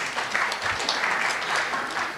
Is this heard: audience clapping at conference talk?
yes